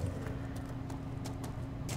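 A chestnut horse walks in Dragon Age: Inquisition, its hooves clip-clopping in a steady rhythm over a low, constant background hum.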